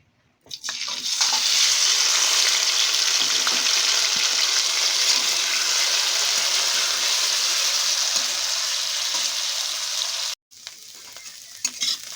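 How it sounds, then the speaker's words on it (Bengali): Boiled potatoes fry in oil in a pan, a loud, dense hissing sizzle that starts abruptly, holds steady for several seconds, cuts off briefly and then resumes. "এবার আমরা এই তেলের মধ্যেই আলুটাকে ভেজে নেব, সিদ্ধ করা আলুটাকে ভেজে নেব।"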